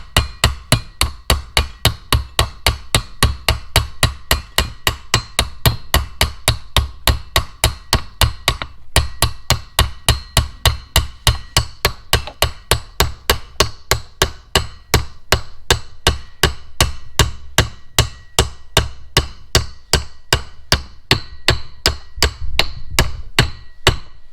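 Steady, rapid metallic hammer taps driving a double cardan U-joint into the front drive shaft of a 1999 Dodge Ram 2500 Cummins, struck through a socket with no shop press, loud and close, repeating at an even rhythm throughout.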